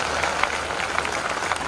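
Steady applause from a crowd at a Hindi poetry gathering, a dense patter of many hands clapping continuously.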